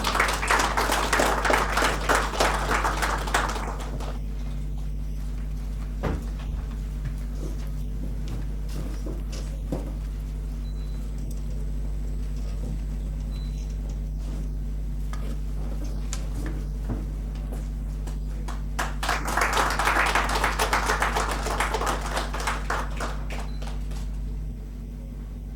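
Audience applause at an NGO meet-up in Goa, heard as two bursts of clapping: one at the start that fades out, then quiet with a low hum, then a second swell of clapping near the end.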